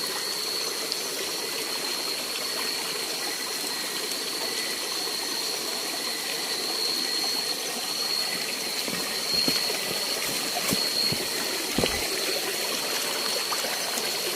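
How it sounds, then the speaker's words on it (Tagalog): A small stream flows with a constant soft rush and trickle outdoors, heard alone and steady, with a few faint knocks near the end. "Uh, maliit na sapa. Sapa ito"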